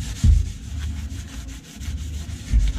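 A cloth rubs protective product onto a car's metal parts in close, steady back-and-forth strokes with soft scuffing thumps, heard alone without talk.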